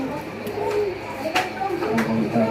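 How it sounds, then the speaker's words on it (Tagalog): A parrot gives several short, coo-like calls at close range over people talking in a household setting. "This parrot."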